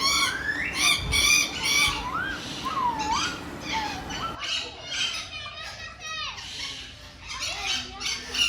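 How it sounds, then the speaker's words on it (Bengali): Several parrot-like species in cages at the Bangladesh National Zoo in Mirpur give repeated shrill squawks and chattering calls close by, with children's voices and crowd noise in the background. "আর এর পাশেই আছে টিয়া পাখির মতো দেখতে টিয়া পাখির কয়েকটি প্রজাতি।"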